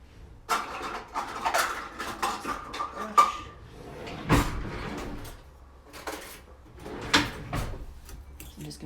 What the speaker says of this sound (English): I'm just gonna mix that up with a fork.